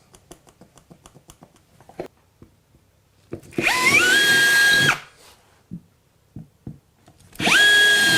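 Power drill boring holes in a wall to mount a radiator bracket: two loud whining bursts about a second long each, rising as the motor spins up, with tapping and handling knocks in between.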